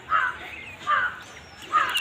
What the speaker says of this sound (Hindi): कौवा सब बोल रहा है, वो सब आवाज़ आ रहा है।